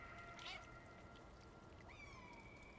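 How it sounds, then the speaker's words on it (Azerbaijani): Cats meow faintly in the Stray video game, two drawn-out mewing calls over a constant low background hum. "O birisi pişiklərin səsidir o"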